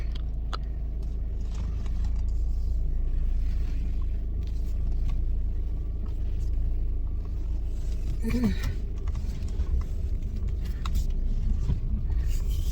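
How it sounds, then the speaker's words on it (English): A school bus engine arrives to pick up children, giving a steady, close low rumble that stays loud throughout, with a brief brighter rattle partway through. "The school buses are here to collect school kids."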